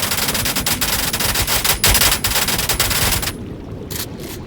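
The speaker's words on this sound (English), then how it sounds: "I wonder what it would look like trying to fight a boss using that rapid fire shotgun." A rapid-fire shotgun in the video game Sons of the Forest blasts in a fast, loud, continuous volley for about three seconds, then two brief final bursts after a short pause.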